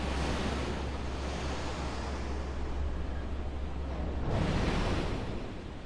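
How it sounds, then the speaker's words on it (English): Water rushes loudly past a sluice in the video game Resident Evil Revelations 2, a broad continuous roar that swells stronger toward the end. "That sluice changed the direction of the water."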